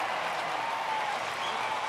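Crowd at a baseball stadium during a Giants–Dodgers game applauding, a dense, even wash of clapping heard from a distance, steady and fairly quiet throughout.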